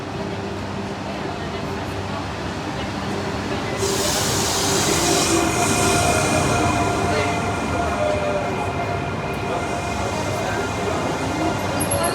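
A TGV high-speed train rumbles steadily through Lyon station, with hissing brakes and wheel squeal rising partway through, while voices murmur in the background.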